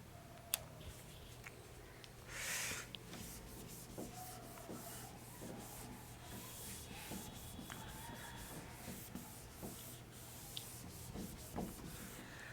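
Writing being rubbed off a classroom board during a chemistry lecture: a soft brushing swipe early on, then faint scraping and rubbing over a quiet background hum, with no voice.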